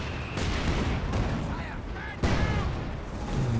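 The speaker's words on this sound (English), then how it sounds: "Is this barrage going to come in onto that machine gun though?" Mortar barrage and gunfire in the strategy game Company of Heroes 2 during a 4v4 match: dense, continuous battlefield rumble with explosive thuds, one sharp louder impact midway, mixed with game noise and talk.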